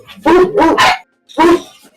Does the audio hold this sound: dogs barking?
yes